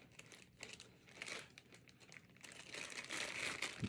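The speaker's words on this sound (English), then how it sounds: "So we just take off the plastic bag." A plastic bag being pulled off the back plate of a stand, soft crinkling and rustling in quick bursts, close and fairly quiet, growing a little busier toward the end.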